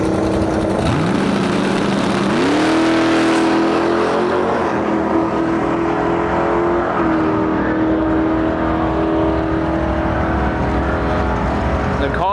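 A V8-swapped 1987 Chrysler Conquest roars down a drag strip, its engine loud and sustained with a steady rising drone that holds near and constant throughout.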